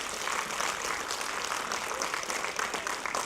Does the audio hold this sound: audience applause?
yes